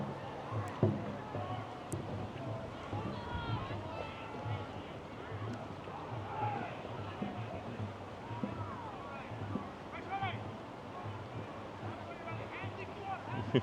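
A team paddles a boat on a creek to warm up, soft splashing strokes and lapping water heard faintly at a distance under a person talking and outdoor wind.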